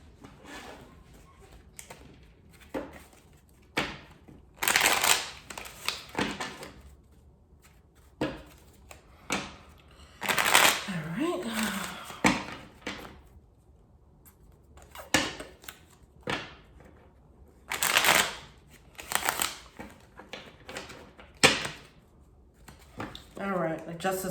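Tarot cards shuffled by hand, short bursts of crisp riffling and rustling that come and go irregularly between stretches of talk.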